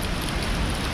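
Waterfall roar echoing inside a sandstone rock house beside a forest creek after heavy rain, a loud, unbroken wash of rushing water filling the space.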